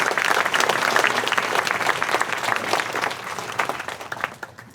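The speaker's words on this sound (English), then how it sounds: "How about another big round of applause for Estella Lopez?" An awards banquet audience gives another round of applause for an honoree, a dense burst of clapping that gradually thins and fades over a few seconds.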